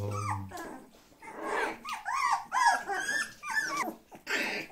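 Dog growling and whimpering with short yips in a series of uneven vocal bursts, fairly close and moderately loud, heard outdoors in nature.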